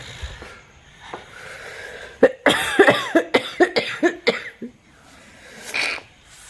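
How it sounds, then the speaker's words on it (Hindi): A woman who is ill breaks into a severe coughing fit: a quick run of about ten harsh, chesty coughs in the middle, with quieter breaths and a wheezy gasp around them. "खांसी हो रखी है खतरनाक वाली, बहुत भयंकर वाली।"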